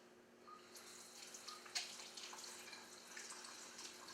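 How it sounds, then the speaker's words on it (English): A tap runs for hand washing at a sink in a home kitchen, a steady, soft stream of water with faint splashing and no voices. "I'm going to wash my hand real quick"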